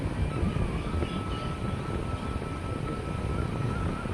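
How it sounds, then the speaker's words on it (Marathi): Wooden rowing boat on a Konkan trip cutting through the water, a steady broad rush of water and wind noise held at an even level throughout, no voices. "अशा प्रकारे पाणी कापत चालणारी होडी मी तुम्हाला अगदी समोरून दाखवण्याचा प्रयत्न करत आहे"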